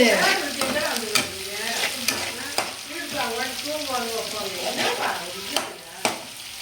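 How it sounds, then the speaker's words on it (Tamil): Tomatoes, onions and garlic fry in a pan while a spoon stirs them, giving a close, crackling sizzle broken by sharp scraping clicks, with a voice murmuring faintly underneath. "நல்லா சுற்றி சுற்றி கிளறி விடு."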